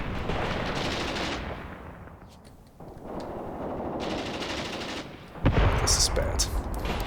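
Heavy mortar or tank fire in the tactical war game Graviteam Tactics, a dense, continuous roar of bursts and gunfire rumbling throughout, easing slightly mid-way before a sharper, louder blast near the end.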